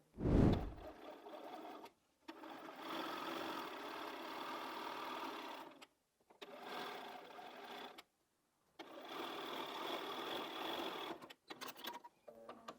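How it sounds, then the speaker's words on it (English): A sewing machine sews quilt fabric strips together in three long bursts of rapid stitching, separated by brief pauses, with a sharp thump at the start. "we need to take those to the sewing machine and sew all of these together"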